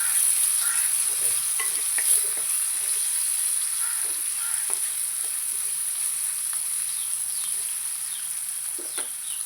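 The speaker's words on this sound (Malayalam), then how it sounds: "നല്ല ബ്രൗൺ നിറമാകുന്നത് വരെ നമുക്കൊന്ന് വഴറ്റിയെടുക്കാം" Sliced onions sauté in a pan with salt while being browned for a sardine curry, a steady sizzle under scattered scraping stirs of a spoon, close and fairly loud, with no voices over it.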